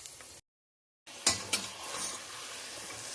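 Sliced onions and green chillies frying in a pan: a short sizzle, a brief silent gap, then two sharp stirring clatters and a steady, close hiss of frying.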